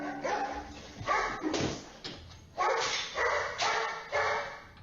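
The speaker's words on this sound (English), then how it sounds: "At first, it just seems like the dog runs off barking, perhaps a little more alarmed at something outside." A dog indoors barks in a series of sharp, loud yaps spaced about half a second apart, with a short whimper and scuffling as it runs off across the room.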